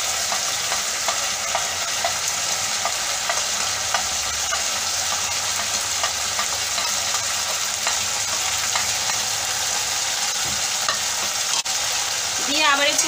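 Vegetables and ground spices are stir-fried in a pan for veg khichuri, giving a dense, steady, close sizzle with faint intermittent scraping of stirring. There is no talk.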